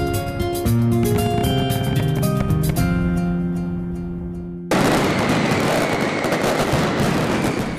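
Fireworks at the Fallas festival in Valencia, Spain: tonal music plays first, then a loud, dense wall of crackling bursts takes over for the last few seconds with no talking.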